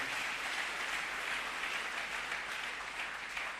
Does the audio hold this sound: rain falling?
no